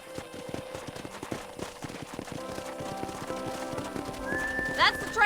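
Horses clip-clop around a corral in Red Dead Redemption, with steady hoofbeats throughout and a loud whinny near the end, under spoken dialogue.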